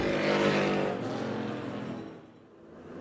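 Modified race cars at Tucson Speedway produce a loud, dense engine roar that swells and then fades as the pack moves away, with no voices over it.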